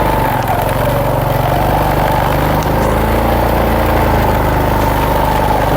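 A motorcycle engine runs steadily and loudly up close, a continuous rumbling drone with no pauses.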